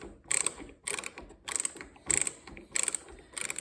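A Hart ratcheting screwdriver drives a screw into wood, giving bursts of rapid ratchet clicks in about six evenly spaced strokes, close and fairly loud, with no talking.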